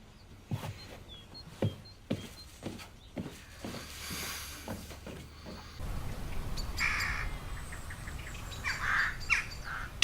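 Harsh crow caws repeated in a quick series at close range, followed by a noisier outdoor stretch with softer chirps and bird calls in the background.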